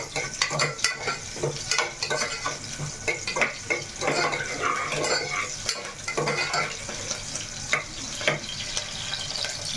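Green chillies fry in hot oil in a pan, sizzling and crackling steadily, with frequent clinks and scrapes of a spoon stirring against the vessel and no voices.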